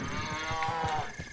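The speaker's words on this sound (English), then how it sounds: "No, stay away from me, cow." Cow mooing in the video game Breath of the Wild, a single drawn-out low moo close by, heard alone for about a second.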